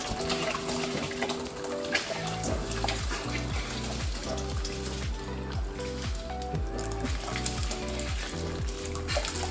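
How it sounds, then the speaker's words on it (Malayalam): Rice goes into a pot of boiling water for Hyderabadi chicken dum biryani, a continuous watery rush and bubbling heard beneath loud rhythmic background music. "വെള്ളമൊക്കെ തിളച്ച് വന്നിട്ടുണ്ട്. ഇപ്പം അതിലേക്ക് നമുക്ക് ഈ അരി ഇട്ട് കൊടുക്കാം"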